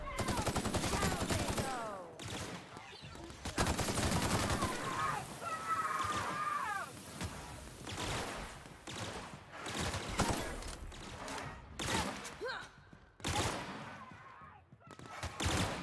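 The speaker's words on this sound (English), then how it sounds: "As long as the guards don't continue to shoot at me." Guards open fire on the player in a video game, with repeated bursts of gunshots, several sharp loud volleys spread unevenly across the stretch and game noise in between.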